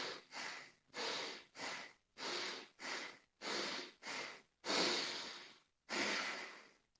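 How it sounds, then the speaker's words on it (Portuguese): Connected breathing exercise with four short breaths and one long one, a close, rhythmic series of audible airy inhales and exhales with brief gaps, the longer breaths standing out, no talking. "Que é um exercício que inclui 4 respirações curtas e uma respiração mais longa e você repete isso 4 vezes."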